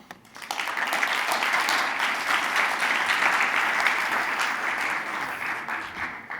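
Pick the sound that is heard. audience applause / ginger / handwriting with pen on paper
audience applause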